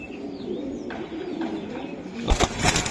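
Racing pigeon cooing softly nearby over a low room hum, with a brief flutter or rustle near the end.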